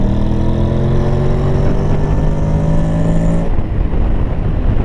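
A Honda Forza 750 scooter accelerates hard to overtake on a country lane, its engine note climbing steadily and loud for several seconds with heavy wind rush, then easing off abruptly.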